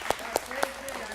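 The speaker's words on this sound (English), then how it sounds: "Give yourself a round of applause" A class applauds themselves, though only three sharp, evenly spaced claps stand out, close and distinct, while a voice talks underneath.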